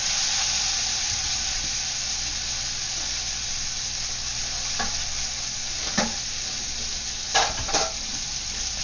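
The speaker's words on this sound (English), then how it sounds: "we're going to add the green beans now" Green beans cooking in a hot pan for a keto Chinese beef and green bean stir fry with garlic sauce make a continuous close sizzle, broken by a few sharp scraping stirs toward the end.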